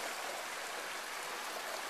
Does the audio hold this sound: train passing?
no